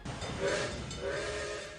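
A freight train hauled by a black steam engine, with a yellow hopper car, green stock car, blue gondola car and purple box car, rumbles steadily while a whistle rings out twice over the rolling noise.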